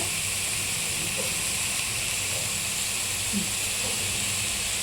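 Spinach and rice frying together in a pan, a constant even hiss of sizzling with occasional faint stirring sounds underneath.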